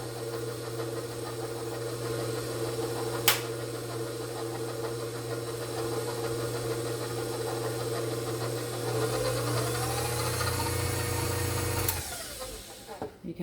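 KitchenAid stand mixer mixing dough for cream cheese raspberry rolls. Steady mid-level motor hum with a constant whir runs throughout, one sharp clack near the start, and then the motor winds down and stops near the end.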